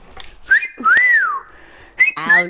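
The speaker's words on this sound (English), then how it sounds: "How do you whistle that whistle?" A person whistles a short tune during a Fortnite match, with clear, gliding notes that rise and fall in a few close, fairly loud phrases, without talk.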